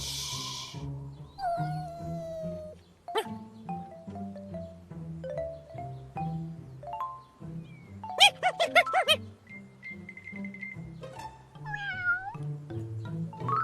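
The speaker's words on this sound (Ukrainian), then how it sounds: "Це кошеня." A kitten gives several high, thin meows over a soft musical background in a cartoon episode, with sharper cries near the end.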